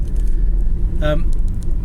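A car idles or passes close by, a steady low rumble filling the whole stretch, with a brief brighter tonal burst partway through; a voice talks over the engine noise.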